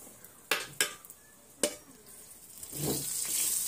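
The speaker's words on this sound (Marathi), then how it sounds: "आता आपल्याला हा छान प्रकारे असा भाजून घ्यायचा आहे तेलात" Maida flour roasting in oil while being stirred for maida barfi, with a few sharp scraping knocks of a utensil against the pan early on, then a soft, rising sizzle toward the end, close by with no talking.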